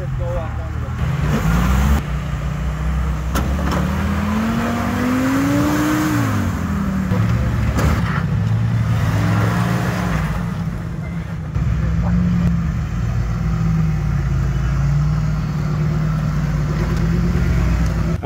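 Classic 4x4 Jeeps grind up rocky steps on the Rusty Nail Trail in Moab, Utah, engines droning and rising in pitch as they climb, a steady nearby rumble heard alongside voices talking.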